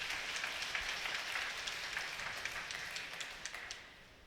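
Steady applause from a crowd at a Buddhist Dharma transmission at a temple in Taiwan, fairly faint and distant, with scattered sharper claps standing out before it tapers off.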